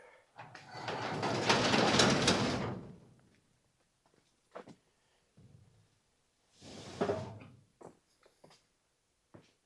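A door is closed in a workshop during a truck build. A long scraping slide is followed several seconds later by a shorter rush of noise and a few light knocks and clicks in a quiet room, with no talking.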